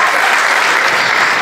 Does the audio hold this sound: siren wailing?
no